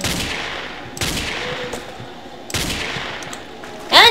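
Gunfire in the video game Ace of Spades: sharp bursts of shots roughly every second and a half, with a louder, brighter crack at the very end and no voices.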